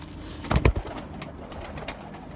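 Pigeons coo in a pen, a couple of soft, low throaty coos close by over a quiet rustling background, with no talking.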